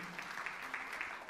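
A church congregation applauds during a sermon, a faint, distant wash of clapping that stays low and even for a brief moment.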